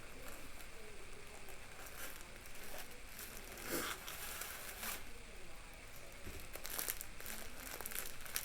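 A plastic bag crinkles and rustles up close as a wig is pulled out of it, with soft irregular crackles and a few sharper bursts.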